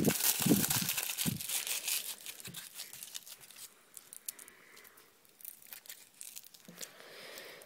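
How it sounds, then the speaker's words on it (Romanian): A sheet of metal foil crinkles and crackles as it is wrapped around a pen with an eraser; sharp, loud crumpling at the start fades into softer, scattered rustles and taps. "Vei avea nevoie de o bucată de foaie metalică și să pui pixul, e de dorit să fie cu radieră, pixul, și să rotești în jurul lui."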